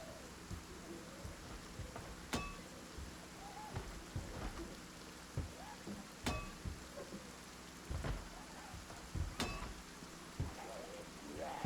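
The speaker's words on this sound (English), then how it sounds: "I can't hear the music over the rain." Steady rain falls throughout, a dense broadband hiss with scattered drop impacts and a few sharp crackling pops, continuous and moderately loud with no talking.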